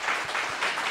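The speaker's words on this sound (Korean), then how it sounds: "박수합니다." Applause from a church congregation during a worship service, a steady patter of many hands clapping together, moderately loud and continuous without speech.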